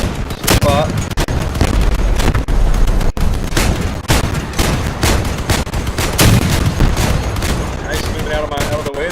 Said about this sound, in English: Just shoot Alec a few times here.